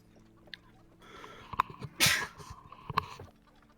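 A single sharp sneeze bursts out at close range midway through, set amid quiet room noise and a few small clicks and shuffles.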